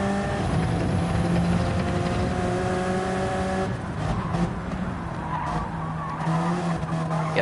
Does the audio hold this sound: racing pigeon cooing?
no